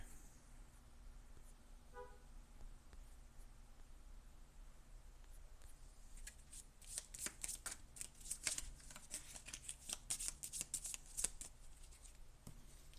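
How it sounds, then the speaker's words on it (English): A deck of cards for a board game is shuffled close by, a quiet run of rapid riffling bursts in the second half over a low steady background hum. "I'll shuffle up the terror deck."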